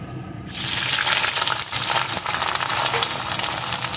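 Chopped onions frying in a pan for spicy chicken curry, a loud dense sizzle that bursts up after a quiet half-second and holds steady, with faint stirring and no voices.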